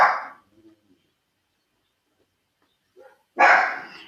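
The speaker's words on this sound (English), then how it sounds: "Sorry, my dog's going crazy." A dog barking indoors, two loud close barks separated by a few seconds of quiet, with a soft whimper before the second bark.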